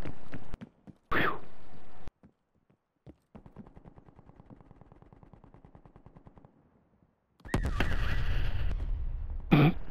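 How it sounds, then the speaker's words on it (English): Gunfire and blasts from Black Ops Cold War prop hunt gameplay: sharp loud bursts, a long rapid run of automatic fire, then a heavy booming explosion near the end. "It's an explosion."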